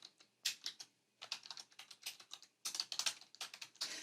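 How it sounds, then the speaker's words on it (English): Quiet, steady typing on a computer keyboard, rapid clicking keystrokes in short bursts with brief pauses, close to the mic, no voices. "So let me type this again."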